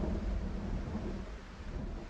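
Steady rain in the video game Project Zomboid with a deep, rolling rumble of thunder underneath, a dense continuous wash of noise with no voices.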